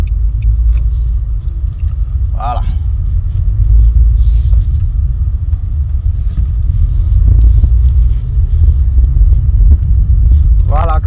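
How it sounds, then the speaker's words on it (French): A Nissan Sunny with an automatic gearbox pulls away, its engine and road rumble loud and continuous from inside the cabin while someone talks over it. "On met le frein à main en bas et on y va."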